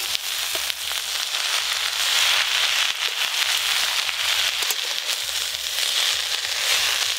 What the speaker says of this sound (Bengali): একটু চাপা দিয়ে দিয়ে ভালো করে শাকটা ভেজে নেবো।